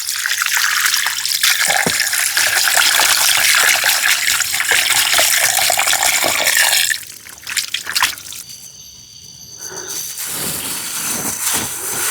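Cut tuna pieces washed under a running tap, a loud steady stream of water splashing over fish in a bowl, briefly interrupted by handling sounds before the flow resumes, close and without talk.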